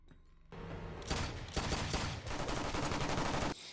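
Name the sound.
pistol gunshots in a film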